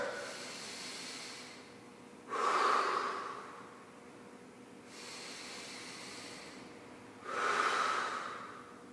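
Heavy breathing between kettlebell swings, with two loud, close breaths standing out above a steady hissing background, each lasting about a second, spaced several seconds apart.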